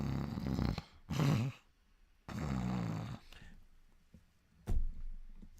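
A person imitates loud snoring from a neighbouring airport bathroom stall: two or three rasping, breathy snore bursts with short pauses between, ending in a sharp closing snort.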